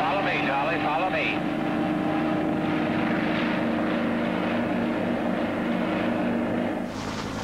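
A Sikorsky HH-3E Jolly Green Giant rescue helicopter from the Vietnam War era gives a loud, continuous rotor and turbine drone, steady throughout with some chatter layered over it.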